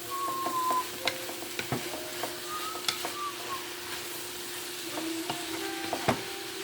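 Kielbasa sausage stirred in a sizzling pan, a steady fry hiss under scattered scraping and clinking of the spoon against the pan, close and moderately quiet, no talking.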